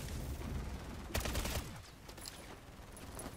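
A burst of rapid automatic turret fire in the MW3 Zombies video game, a dense rattling volley lasting about half a second, set against constant game noise and faint distant shots.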